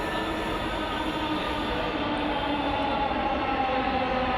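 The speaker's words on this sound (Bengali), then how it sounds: "মেট্রো রেল দেখা যাচ্ছে চলে আসছে, কাছাকাছি চলে আসছে" A Dhaka Metro Rail train approaching a station, heard as a steady, loud rumbling rush of wheels and motors with faint high whine, continuous and building slightly, no voices.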